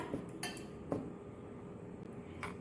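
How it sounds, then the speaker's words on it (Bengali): A spoon taps and scrapes against a bowl while three spoonfuls of semolina go into mango pulp, a few soft separate clinks spread across a quiet background. "এই তিন চামচ সুজি দিলাম"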